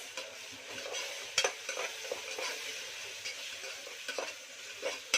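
Turmeric and tomato slices mixed in a cooking pot for khichdi, giving a gentle steady sizzle with repeated spoon scrapes and a few sharp clinks against the pot, no voices.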